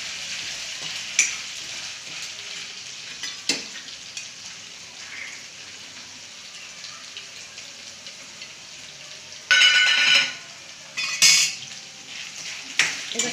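Masala frying in vegetable oil for a Khandeshi-style cowpea curry, a low steady sizzle broken by several loud bursts of a spoon scraping and clattering against the pan.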